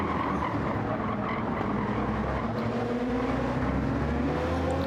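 Race car tyres squeal under hard braking into a hairpin in the Gran Turismo 7 video game at the Tokyo East circuit, a loud continuous screech over engine noise.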